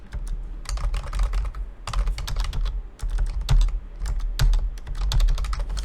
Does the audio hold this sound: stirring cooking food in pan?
no